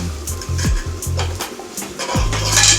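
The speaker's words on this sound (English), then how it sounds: "Give it a little stir." A spoon scrapes and knocks around a pan while stirring a mix for a salmon and sweet potato shepherd's pie, several short rhythmic scrapes and clinks close by with a low hum underneath.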